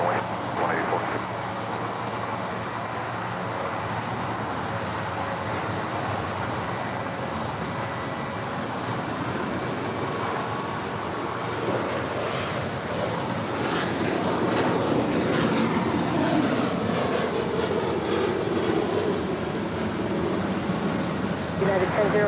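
An airliner takes off from runway 25 right at LAX, its engines a broad, steady roar that builds and swells over about twenty seconds, heard at a distance with faint radio chatter mixed in.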